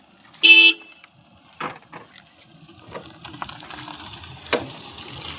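A car horn gives one short, loud toot, followed by scattered clunks, rattles and faint clatter of a vehicle nearby.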